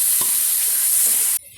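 Onions frying in coconut oil hiss steadily as tomatoes go in, with a soft clatter near the start; the loud sizzle runs alone and cuts off abruptly near the end.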